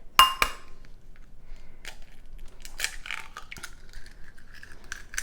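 A single egg cracked against a hard edge and opened into a bowl, a sharp crisp tap near the start followed by lighter clinks and small shell and kitchen handling noises, close up with no talking.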